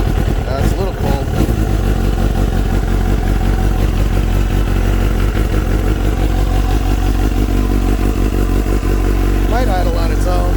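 A Kawasaki ZX7R motorcycle engine idles steadily after a cold start on a mild day, with a loud, continuous rumble and some mechanical clatter, and a voice talks over it at times.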